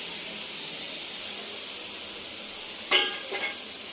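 Chopped onion with a pinch of salt fries in a pan, giving a steady bright sizzle throughout, with a sharp louder burst of spitting and scraping near the end as the pieces are stirred.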